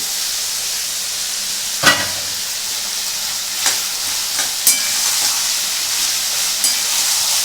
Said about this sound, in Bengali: আচ্ছা এটা এখন ভাজা হবে